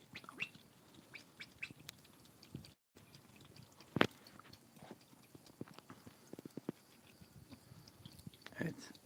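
Ducks eat feed eagerly, their bills making a rapid, irregular patter of soft clicks and pecks, quiet and close, with a few sharper knocks and faint background noise.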